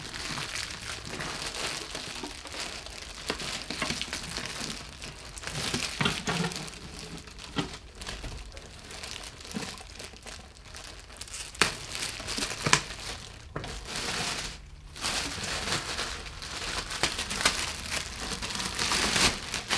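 Original plastic and paper packaging crinkled and pulled away while a Skywatcher 130PDS telescope is unwrapped, close continuous rustling and crumpling with irregular louder crackles and rips throughout, no talk.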